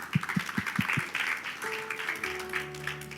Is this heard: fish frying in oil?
no